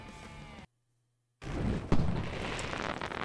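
Explosions in the Broforce co-op game: a short burst of blasts, then a break of near silence, then a loud boom with a rumbling, crackling run of explosions that carries on to the end.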